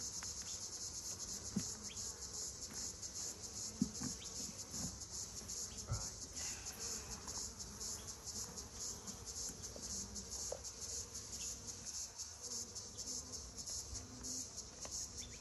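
Honey bees buzz steadily around an opened hive frame during a beekeeping inspection, a dense continuous drone with occasional faint handling knocks and no talking.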